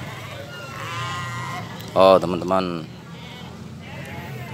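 Sheep bleat loudly at a goat and sheep market in Pringsewu, one close, wavering cry followed by a shorter call, with a person talking briefly and crowd murmur underneath.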